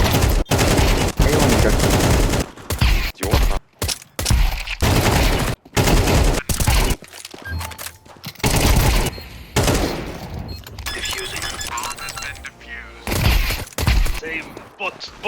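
Counter-Strike 2 gunfire in competitive play, rapid automatic bursts and single loud shots in dense clusters, close and heavy, with players talking over and between the shooting.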